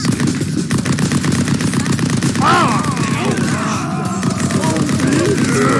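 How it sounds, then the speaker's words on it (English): Heavy machine gun in the battle royale game POOSTALL Royale fires a long, loud, rapid continuous burst of close shots, with a brief tonal game effect partway through. "Heavy machine gun."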